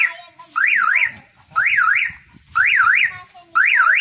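A Suzuki Multicab van's car alarm warbles in loud, rising-and-falling electronic chirps, four bursts about a second apart with short gaps between them, close by and with no talk.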